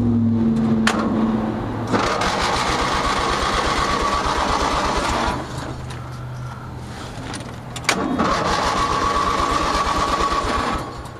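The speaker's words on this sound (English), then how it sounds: "I got this carburetor stalled again. Let's try again." A Craftsman DYT4000 lawn tractor engine with a stalling carburetor cranks and runs roughly close by, loud and buzzing, dies back briefly, then catches and drones again before cutting out.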